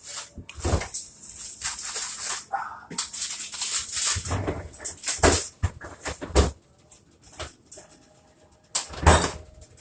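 A dog nearby in a kitchen gives several short barks and whimpers in scattered bursts, with pauses of near quiet between them.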